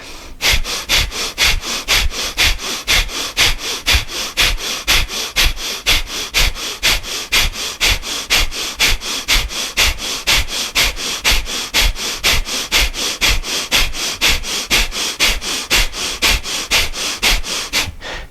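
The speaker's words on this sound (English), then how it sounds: "So with thumbs up, let's start our breath of fire." Breath of fire yoga breathing: a fast, steady train of forceful nasal exhales, evenly spaced pulses repeating about twice per second, close and loud, with no talking.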